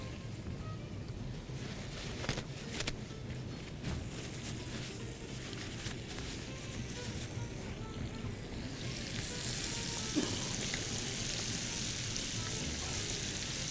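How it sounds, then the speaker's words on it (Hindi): Chicken pieces frying in hot oil, a steady low sizzle and crackle throughout that grows brighter and hissier in the second half, with no voices. "बहुत ही आला फ्राई हो रहा है"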